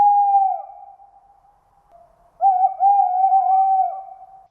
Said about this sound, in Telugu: ఈ గుడ్లగూబలు చేసే సౌండ్ కి కొండలు కూడా ప్రతిధ్వనిస్తూ ఉంటాయి.